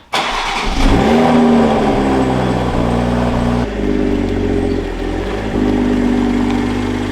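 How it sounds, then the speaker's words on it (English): A stock manual Toyota Supra starts with a sharp crank, revs up, then settles into a loud, steady engine drone as it pulls out, with small dips and shifts in pitch along the way. "Take a listen to the quiet stock car"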